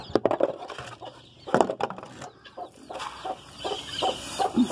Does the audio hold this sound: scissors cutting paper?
no